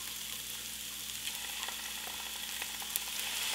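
Mushrooms and corn fry in a pan over medium-high heat, giving a steady close hiss of sizzling with occasional crackles and pops throughout.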